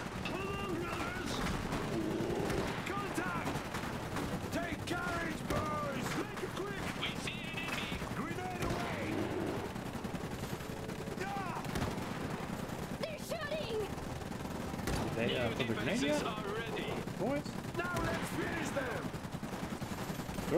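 Rapid bursts of gunfire and explosions from a battle against an autogun sentry in the strategy game Iron Harvest, repeated and moderately loud, with a person talking over the action.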